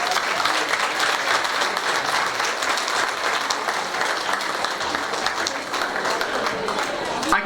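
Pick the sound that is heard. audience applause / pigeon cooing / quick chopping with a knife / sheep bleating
audience applause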